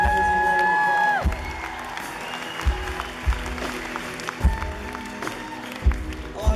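Concert crowd applauding and cheering inside a worship center, the clapping rising after a held music note fades, with scattered louder claps and hits over a busy, reverberant room.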